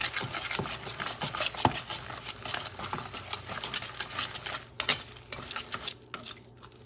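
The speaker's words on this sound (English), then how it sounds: "And you're going to mix this up until you get a good texture," Hoe cake batter with two eggs being stirred in a bowl: a steady run of quick clicking, scraping utensil strokes against the dish, close and moderately loud, no voices.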